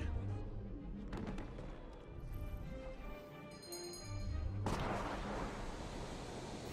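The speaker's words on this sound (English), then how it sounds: "Someone's shooting someone." Booming gunfire and heavy thuds ring out in Assassin's Creed Syndicate, a rumbling battle mix with a sharp blast near the middle, set under a low game soundscape with faint voices.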